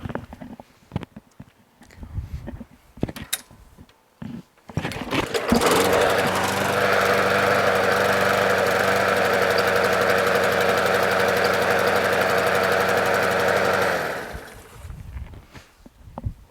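A Craftsman lawn mower with a Briggs 6.75 Quantum engine and a stuck-closed choke starts on one pull and runs rough and rich, a loud uneven chugging roar for about eight seconds before dying away, preceded by handling clatter.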